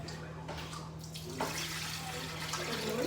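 Water runs into a Thermomix TM7 bowl for cooking rice, a steady soft splashing pour under a constant low electrical hum, with no one talking.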